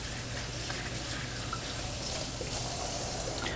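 Kitchen tap running steadily into a sink while something is rinsed out, a constant close splashing stream with no talk over it.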